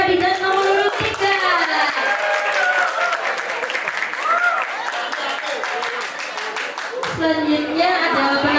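An audience at a school student council candidate debate claps rapidly and loudly, dense rhythmic applause continuing throughout, with an announcer's voice heard over it at the start and end.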